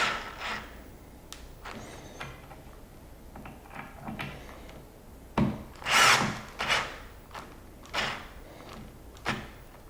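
A power drill drives screws while a cleat is fitted at an awkward angle for a removable balcony hand rail, giving several short bursts spaced across the clip, with one louder, whining run near the middle and quiet handling between.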